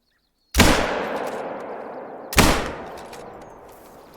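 Two loud rifle shots fired at a bear in the hunting game Hunter: Call of the Wild, each a sharp crack followed by a long rolling echo fading out, about two seconds apart, after a moment of silence.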